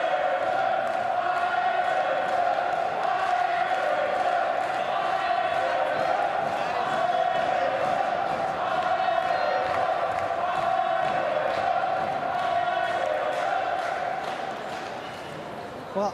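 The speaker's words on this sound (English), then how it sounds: "French have got an awful lot of support in the crowd here" A fencing crowd cheers loudly for the French team at a university games team match against Italy, a sustained roar of voices and chanting with a tonal horn-like drone, under faint commentary.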